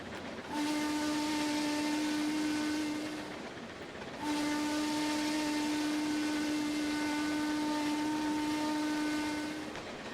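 Steam locomotive in Trainz Simulator gives two long, loud whistle blasts, the first about three seconds and the second nearly five, over a continuous breathy hiss and rumble.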